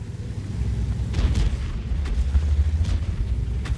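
A Super Conqueror tank's cannon shell strikes a target in World of Tanks, heard as a deep booming impact that swells and rumbles on amid continuous low engine drone, with no talking.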